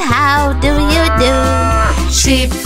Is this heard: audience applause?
no